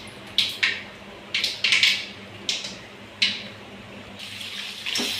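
Tap water splashing intermittently in a sink while raw country chicken is washed, several bright bursts of running water over a steady background hum, no talking.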